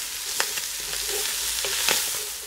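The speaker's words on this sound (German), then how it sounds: "Und wenn wir den jetzt im Nachgang anbraten, also nach dem Hack, haben wir den Vorteil, dass wir uns unten schön die Röstaromen lösen können." Cabbage fries and sizzles in a Dutch oven after minced meat has been browned, with a steady hiss broken by several sharp scraping stirs, close and moderately loud, no talking.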